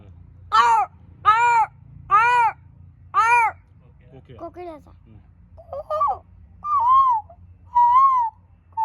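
A voice mimics a crow with four loud, harsh evenly spaced caws, then a run of shorter, softer cawing and wavering calls.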